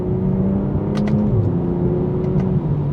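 BMW M240i in manual mode pulling through a moderate, part-throttle acceleration, steady engine drone heard from inside the cabin with a rising tone and faint clicks, no talking.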